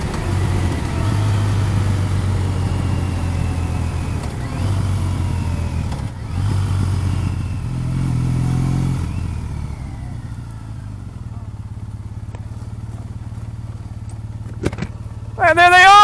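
A Triumph T-100 motorcycle with a sidecar slows down, its steady low engine drone easing and dropping in pitch as it decelerates nearby, ending with a brief rising whine.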